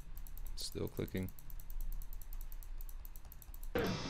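Computer keyboard keys pressed in a few quick bursts to skip a game intro, soft clicks near the start and again at the end, with a steady background hum.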